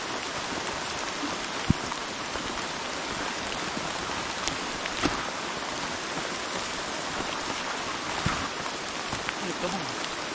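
Steady rain falls continuously, a dense hiss of drops on surfaces with a few louder isolated drips, no voices.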